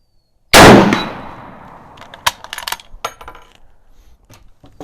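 A 1932 Tula Mosin Nagant 91/30 rifle fires, followed at once by the loud ring of a bullet striking a steel target at 100 yards, then a decaying clatter of small metallic clinks and rattles nearby.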